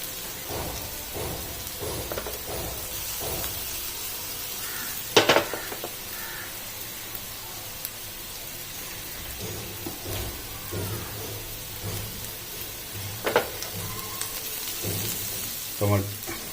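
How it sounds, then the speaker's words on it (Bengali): Chicken pieces deep-fry in oil for restaurant-style crispy chicken, a continuous crackling sizzle with occasional clinks and utensil scrapes, and a few louder knocks along the way. "ভালো করে ভেজে নেবো যাতে কাঁচা কাঁচা ভাবটা যেন না থাকে"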